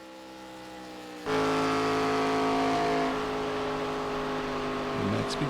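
Race car engine in the Plateau Energy Drink car during qualifying laps of a sim racing event at Daytona, a steady droning hum that jumps abruptly to a loud sustained high-revving whine and then eases slightly.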